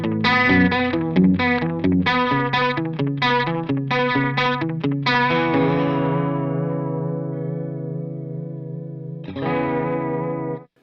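Electric guitar through a Truetone V3 H2O liquid chorus and echo pedal: a run of quick picked notes with shimmering chorus and repeats, then a sustained chord that rings and decays, followed by one more strummed chord before cutting off.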